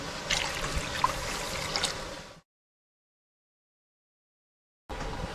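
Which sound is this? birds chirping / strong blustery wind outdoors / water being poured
water being poured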